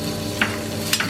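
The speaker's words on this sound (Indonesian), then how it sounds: "ini si bekas minyak ini kita pakai buat goreng" Onions fry in reused oil left over from frying anchovies, giving a soft, steady sizzle with a couple of brief scraping stirs, close by and without talk.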